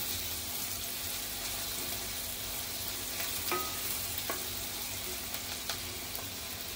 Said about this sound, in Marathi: कढीपत्ता घालते, कांदा थोडा शिजवून घ्यायचा आहे